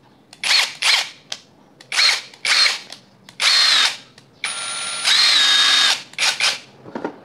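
An INGCO brushless cordless impact wrench runs in repeated short bursts, with several brief whirring triggers followed by a longer sustained run and a few more quick pulses, loud and close with no talking.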